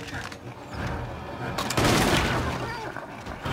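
Gunfire in the video game Little Nightmares II, a dense burst of shots and booms that swells in the middle and lingers, heard over a busy game soundscape.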